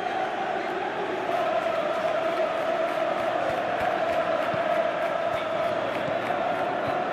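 A stadium crowd in the PES 2019 football game roars continuously at a steady, fairly loud level, a sustained wash of cheering and chanting with no distinct breaks.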